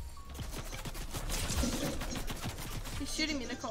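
Video game gunfire crackles in rapid, uneven bursts at moderate loudness, mixed with fuller shots and heard beneath people talking.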